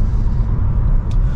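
A Mercedes-AMG SL 63 roadster with all-wheel drive runs close by, its deep, loud engine rumble holding steady and unbroken throughout, with no voices.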